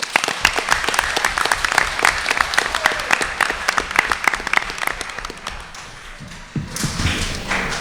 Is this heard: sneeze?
no